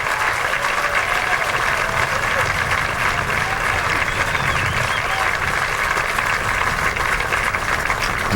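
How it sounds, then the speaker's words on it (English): Golf gallery at the 2009 Masters second round breaking into sustained applause, a dense, even wash of many spectators clapping from a distance that holds steady without pause. "applause begins to taper."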